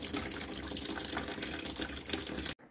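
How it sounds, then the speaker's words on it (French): Coolant gushes steadily from an opened drain tap on a Mercedes A-Class cooling circuit, a continuous close splashing flow of liquid that stops abruptly at the end. "je suis en train de vidanger le circuit. Il y a un robinet ici, on ouvre."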